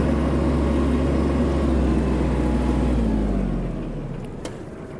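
A Kubota KL-250 Japanese mini tractor shifts down a gear and drives, its diesel engine thrumming low and steady, then fading slightly near the end with a brief clack.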